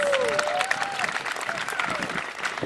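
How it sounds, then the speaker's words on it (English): A graduating class at a 2012 high school commencement applauds itself, a dense, steady wash of clapping from a large crowd with scattered voices and cheers woven through it. "Give yourselves a round of applause."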